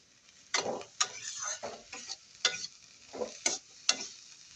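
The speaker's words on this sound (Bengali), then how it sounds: "এখন পটলটাকে ভালো করে ভেজে নিব।" Pointed gourd with onion, garlic and chili is fried and stirred in a pan, producing irregular scraping and clacking strokes of a spatula over a soft sizzle, close and alone.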